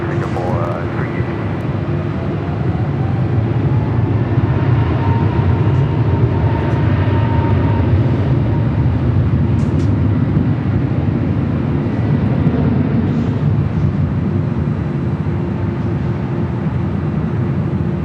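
A Singapore Airlines Boeing 787 Dreamliner landing on runway 24 right at LAX, a loud, steady jet roar that holds for the whole stretch with a faint whine on top.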